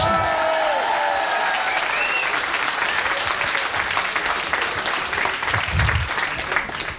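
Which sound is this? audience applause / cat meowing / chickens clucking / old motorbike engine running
audience applause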